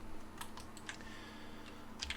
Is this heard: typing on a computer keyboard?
yes